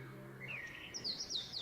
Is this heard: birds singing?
yes